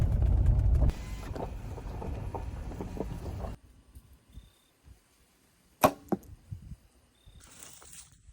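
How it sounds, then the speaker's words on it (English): A sharp, bright twang and thwack of a released archery bowstring, shot outdoors in Kentucky in November, stands out after a steady outdoor rumble, followed by a few softer knocks and rustles. "I'm gonna shoot my bow for a minute"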